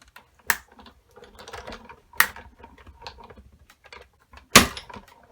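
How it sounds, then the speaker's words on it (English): Big Shot die-cutting machine cranking a card die sandwiched between plates: three sharp, loud clacks spaced a couple of seconds apart, with softer rattling and grinding mechanical clicks in between, close and without talk. "shoot it through the big shot"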